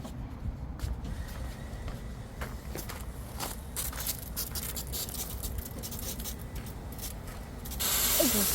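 Foam marker spraying from the back of a seeder on a garlic farm, a steady hissing spray with scattered pattering and rubbing, a louder rush near the end.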